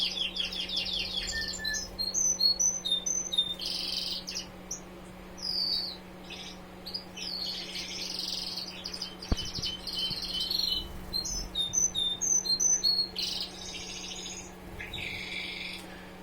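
A young caged bird, about six months old, sings in repeated bright chirping phrases with brief pauses, fairly close, over a steady low electrical hum.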